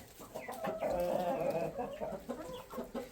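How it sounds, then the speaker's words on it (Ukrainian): A flock of crested chickens and roosters clucks and murmurs close by, with overlapping calls from several birds rising and falling continuously. "Півні всі чубаті, кури всі чубаті."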